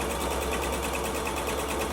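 A sewing machine runs steadily, stitching a Christmas stocking with a fast, even mechanical whirr and rhythmic needle chatter, close and continuous with no talk.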